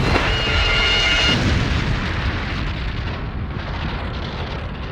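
A loud, sustained cartoon nuclear explosion roar with a sharp burst at the start, rumbling on and slowly easing off, with no voices.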